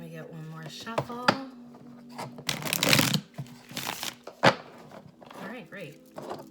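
A deck of cards is riffled and shuffled up close, with quick crisp flurries of papery snapping and a few soft knocks.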